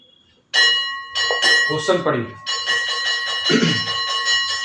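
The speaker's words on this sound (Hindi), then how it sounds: "घंटी बज रहा है सर, साथ में म्यूजिक भी चल रहा है" A bright bell rings out with a sustained metallic tone, struck repeatedly while a person talks over it.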